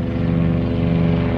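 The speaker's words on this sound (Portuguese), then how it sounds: "helicóptero" A helicopter passes overhead, a loud continuous rotor drone with a steady, evenly pulsing low tone close by.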